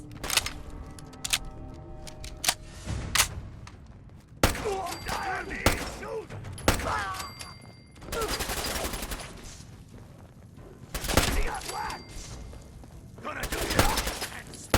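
Sniper and other gunfire in the Fallout 4 video game, loud repeated sharp shots in irregular bursts with crashing impacts between them, over game sounds.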